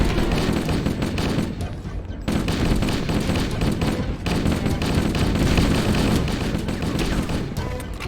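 Sustained automatic gunfire in Halo: Combat Evolved, dense rapid bursts layered with blasts and a constant roar of combat, loud and continuous with only brief lulls.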